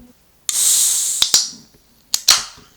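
A shaken Coca-Cola can is opened up close: a sharp tab click and a loud fizzing hiss, followed by two more quick metallic clicks, each with a short burst of fizz.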